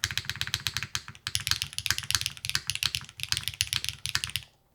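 Rapid typing on a mechanical keyboard with a plastic plate, a dense run of crisp, close clacks in quick bursts with short pauses, ending abruptly.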